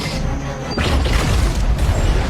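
A gas tank and microwave explode in Iron Man 3 with a heavy boom and crash, then a dense rumbling roar that sustains loudly to the end with crackling debris.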